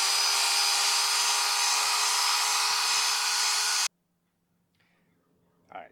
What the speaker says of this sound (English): just use the corded drill with a Scotch pad on it